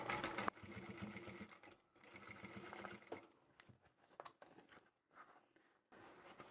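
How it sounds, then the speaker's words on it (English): A sewing machine triple stitching over the handles of a two-toned scrap fabric vinyl upholstery bag, whirring in close bursts with brief pauses between runs. "I'll triple stitch over each one."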